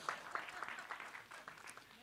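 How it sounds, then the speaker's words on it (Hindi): Faint, distant applause from an audience at a film trailer launch event for Shilpa Shetty, a soft scattered patter of clapping that stays low and steady throughout. "प्लीज आइए, शिल्पा जी के लिए जोरदार तालियां हो जाएं।"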